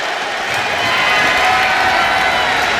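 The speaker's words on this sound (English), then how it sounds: "And as I say that, they cheer louder." A crowd at a wrestling show roars in a loud, continuous wash of cheering and shouting that builds slightly and holds steady.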